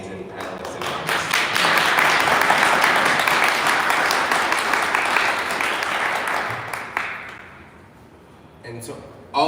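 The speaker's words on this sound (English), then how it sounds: "Please join me and applaud these amazing panelists and artists" An audience at an artists' panel discussion applauds the panelists and artists, with loud sustained clapping that gradually thins out and fades before a few last claps near the end.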